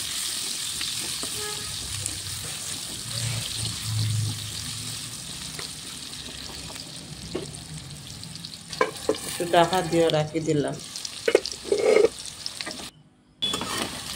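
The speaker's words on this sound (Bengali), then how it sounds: "কড়াইয়ের মাঝে পরিমাণ মতো তেল দিয়া আর আলুটা বাজিলাম" Potatoes dusted with turmeric fry in oil in a kadai with a continuous close sizzle and occasional stirring scrapes. Later come clinks as a lid is set over the pan, and someone speaks briefly.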